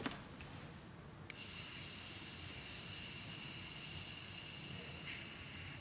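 A compressed-air blast cleans alcohol off a part, a steady hissing rush starting abruptly after a short click and running unbroken to the end, fairly quiet and alone.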